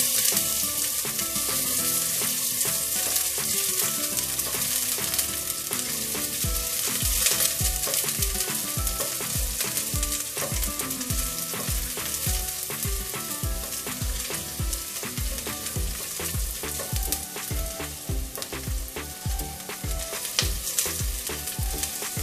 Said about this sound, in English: We will fry onions until it gets golden brown.